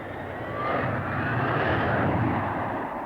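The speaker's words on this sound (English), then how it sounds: "The Harrier utilizes the enormous thrust of its Rolls-Royce engine" A Harrier jump jet with a Rolls-Royce engine thunders close by in a loud, steady roar that swells slightly and holds.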